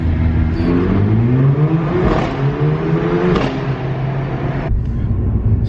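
A Mercedes-Benz A45 AMG accelerates hard, its engine note climbing through rising sweeps with gear changes, loud and close before easing into a steadier drone.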